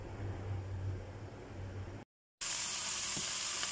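Ingredients sauté in a pan for ginataang langka with fried daing fish, a steady loud sizzle filling the whole stretch, broken by a short silent gap before the frying hiss resumes.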